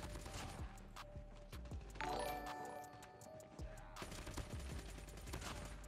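Gunfire in the Call of Duty Mobile shooter game comes in rapid bursts of sharp shots. The quick, repeated cracks are fairly close and loud, with a short pause in the middle.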